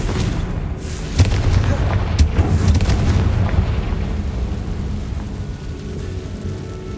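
A Confringo fire spell blasting in the game Hogwarts Legacy, a deep rumbling boom with a few sharp cracks that rolls on and fades slowly.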